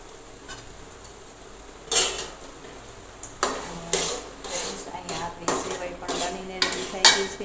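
Mustard seeds, cumin, black pepper, cloves and bay leaves go into oil heating on a gas stove for tempering. Sharp spoon-on-pan clanks and scrapes land in irregular bursts over a faint, steady background.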